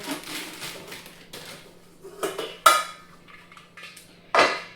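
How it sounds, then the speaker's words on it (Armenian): Frying pan of about 24 centimetres being handled in an IKEA store, giving soft scraping and handling noises with a few sharp metallic clanks, close by, over a faint steady hum. "Նայեք, սիրուն թավա է, 23 սանտիմետր"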